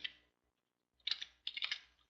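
Typing on a computer keyboard with a slightly unusual layout: a quick cluster of keystrokes, a pause, then two short bursts of close, crisp clicking.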